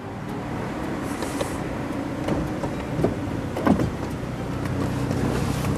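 A BMW 335i convertible's power-folding hard roof retracts while the car sits stationary, a steady electric motor whir with soft mechanical clunks and shifts of panels, moderately close, no talking.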